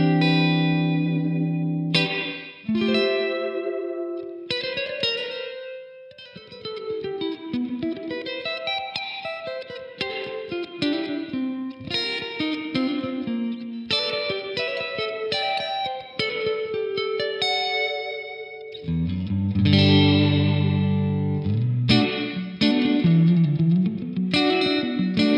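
A short-scale single-coil electric guitar through a 50W amp's clean channel with hall reverb at maximum plays chords and melodic lines, each note trailing into a long, washy tail. It is loud, steady and has no talk.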